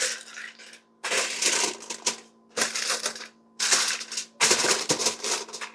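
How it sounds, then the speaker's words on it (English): Aluminium foil crinkles in loud, broadband bursts while it is pressed loosely over focaccia bread dough left to rise at room temperature, several rustling crackles separated by short silences. "I'm just going to cover it loosely with some foil."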